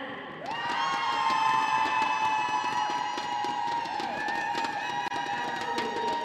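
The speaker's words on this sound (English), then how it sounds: "Can we now have a cheer for the Isle of Man?" A netball crowd cheers for the Isle of Man team, a loud sustained roar of shouts, whistles and clapping that carries through the whole stretch without letup.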